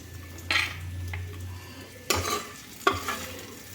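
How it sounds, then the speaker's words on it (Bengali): Lightly fried capsicum and onion are lifted from a kadai into a bowl, three sharp spatula scrapes and clinks over a soft background sizzle, close and fairly quiet. "ক্যাপসিকাম পেঁয়াজ একটা পাত্রে তুলে নিচ্ছি"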